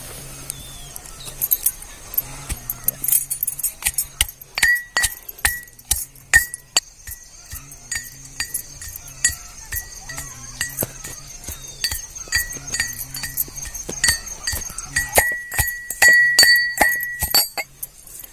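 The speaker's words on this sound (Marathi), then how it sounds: "पहिल्यांदा आपल्याला मिरची आणि लसूण बारीक करून घ्यायचंय" Green chilies and garlic being pounded in a kitchen, a rapid series of sharp clinking knocks of pestle against a hard mortar, loud and close, with no talk.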